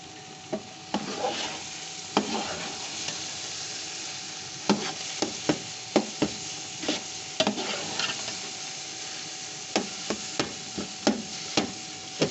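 Steady rhythmic scraping of a spoon stirring carrot halwa with almonds in a pan, with regular soft knocks against the pan and a faint sizzle underneath, close and alone.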